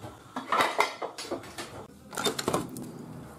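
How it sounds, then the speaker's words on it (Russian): A lid clatters onto a cooking pot, a string of close metallic clinks and knocks in two bursts with a short pause between, and no voices. "надо крышкой прикрыть"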